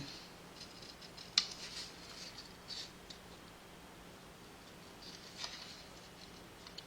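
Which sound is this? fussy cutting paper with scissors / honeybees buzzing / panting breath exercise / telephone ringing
fussy cutting paper with scissors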